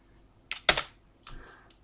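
A computer keyboard key is pressed: one sharp, close click of the Enter key with a few lighter key taps just before and after, quiet and alone.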